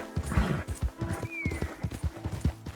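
A horse in the Red Dead Redemption 2 video game clip-clops along at a steady trot, its hooves thudding in an even rhythm, with a brief whinny high over the hoofbeats.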